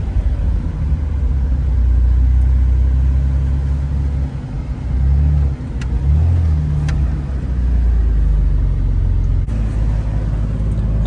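A Jeep with a manual transmission being driven by a learner, its engine a loud steady low rumble rising and dipping with throttle, a brief lull midway, and a few clicks over the drone.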